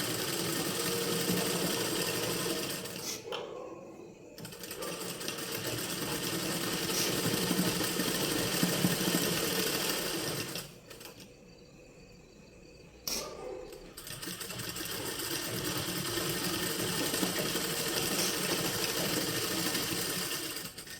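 A sewing machine stitches a layered sleeve in a fast, steady mechanical whir, close and clear, stopping briefly twice before running on again.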